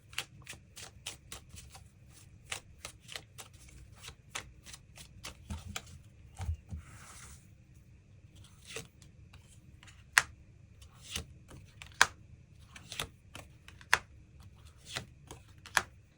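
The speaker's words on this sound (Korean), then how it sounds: "추가 카드 뽑아보도록 하겠습니다" Tarot cards shuffled by hand, a long run of crisp, quick flicking and riffling snaps at an uneven rhythm, close and fairly quiet, with a few sharper taps toward the end.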